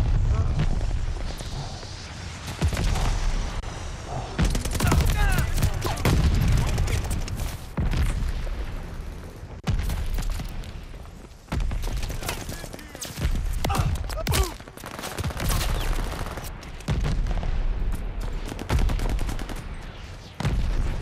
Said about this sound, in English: Heads up, Allied mortar fire coming.